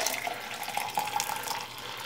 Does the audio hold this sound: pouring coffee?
yes